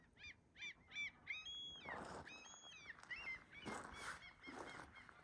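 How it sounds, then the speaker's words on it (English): Birds give goose-like honking calls outdoors during a walk: a run of repeated nasal honks, then overlapping calls from several birds, moderately distant and fairly soft against a faint background. "Lumalabas na yung mga birds."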